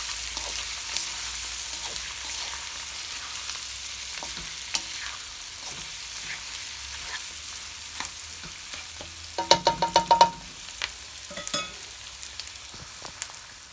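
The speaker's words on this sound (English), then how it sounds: "And just give it a nice little stir." Curried prawns in a pot being stirred over heat, a quiet steady sizzle with soft scrapes and a brief louder burst of clattering stirring near the end.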